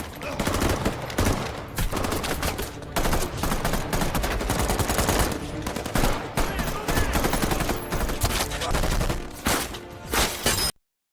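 Gunfire rattles in a filmed shootout between a SWAT team and robbers: dense bursts of automatic fire and rapid single shots, loud and close, with brief gaps, ending abruptly in silence.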